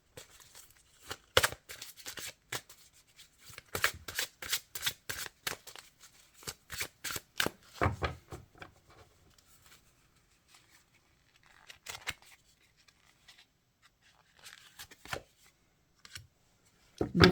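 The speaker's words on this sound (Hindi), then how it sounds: "दो कार्ड निकालेंगे खाली।" Tarot cards are shuffled, drawn and handled at close range, with rapid crisp riffling snaps in dense bursts, then sparser single flicks and slides separated by quiet gaps.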